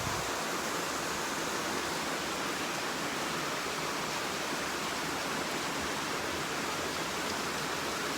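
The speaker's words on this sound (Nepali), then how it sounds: "पानी परेको हेरेको" Rainy-season rain falls in Darjeeling as a steady, even hiss that holds at the same level throughout, with no voices over it.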